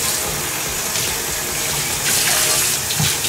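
Water gushing loudly as an aquarium protein skimmer is rinsed out, a continuous close splashing rush with no talk.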